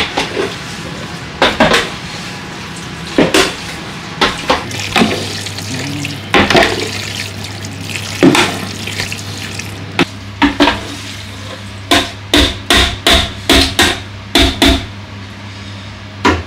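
A big batch of chicken rujak ingredients being mixed by hand, wet slaps and clattering knocks in bursts, faster and more regular toward the end, with a low hum underneath.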